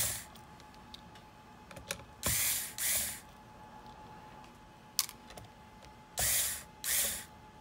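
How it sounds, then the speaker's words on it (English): Four screws being backed out of the heatsink on an I/O board with a number 1 Phillips hand screwdriver, heard as short rasping, ratchet-like bursts in pairs, close up and alone, with faint clicks between them. "we're going to remove the 4 screws that are holding down the heatsink on the I/O board."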